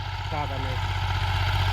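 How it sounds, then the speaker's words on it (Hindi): A roughly 30-year-old Massey Ferguson 35 tractor idles in a steady low chugging rumble nearby, with someone talking briefly over the engine. "मैसी 35 ट्रैक्टर है, अभी से लगभग 30 साल हो चुके हैं।"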